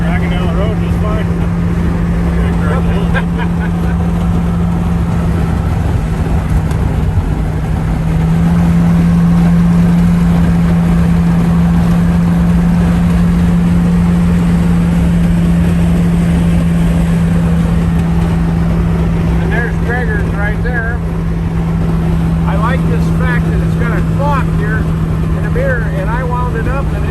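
A 1934 Ford pickup street rod with a 302 V8 and automatic transmission cruises down the freeway, a steady, loud engine drone with road noise throughout, with people talking over it.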